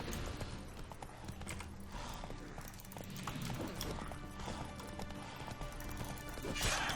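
Roach, the horse in The Witcher 3 video game, gallops with steady clip-clop hoofbeats under a dense bed of game music and combat noise, moderately loud and continuous throughout.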